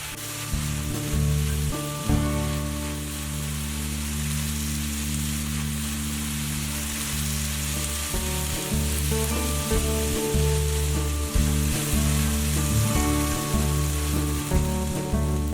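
Scrambled eggs and prepared tomato stir-fry ingredients sizzle loudly in a pan, with a steady crackling hiss and occasional clacks of a utensil, over faint background music.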